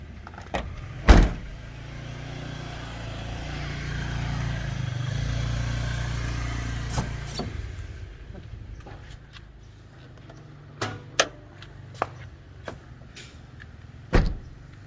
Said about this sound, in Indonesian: Pintunya masih enak semua, keempat-empatnya ditutup, masih suaranya asik ya.